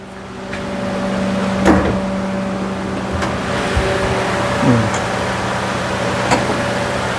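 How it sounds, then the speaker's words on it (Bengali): A Toyota Premio with a 1500cc engine idles smoothly, a low steady hum with faint clicks and a few brief thumps, heard close with no talk. "ইঞ্জিন স্টার্টে আছে হ্যাঁ ইঞ্জিন খুবই সুন্দর স্মুথ ইঞ্জিন"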